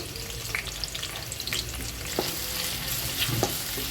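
Chopped onion frying in oil for a fish curry, a steady close crackling sizzle with scattered pops and a few utensil scrapes, no voices.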